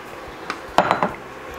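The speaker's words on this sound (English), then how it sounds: "So we're gonna go in with that fish" Fish going into a simmering pot of Jamaican fish tea soup with pumpkin, heard as a few quick close clinks and clatters of cookware over a low kitchen background.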